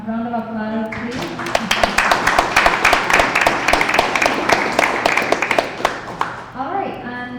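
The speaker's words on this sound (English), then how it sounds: "You can give them a round of applause, please." Audience applause at a book pre-launch at UWI Open Campus in Belize, a sustained round of distinct claps building after a short spoken line and fading as a voice resumes.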